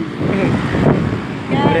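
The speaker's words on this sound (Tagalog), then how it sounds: "Nadadala kami ng hangin." Strong wind buffets the microphone in heavy roaring gusts, with a voice briefly audible under the rush.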